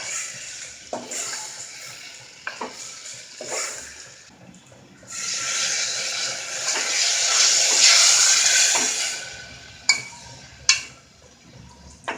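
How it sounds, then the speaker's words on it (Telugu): Water from a glass pours into a pressure cooker in a village kitchen while mutton liver masala cooks, giving a steady splashing rush lasting several seconds, with clinks of metal before and after. "ఒక గ్లాస్ వాటర్ యాడ్ చేసుకొని"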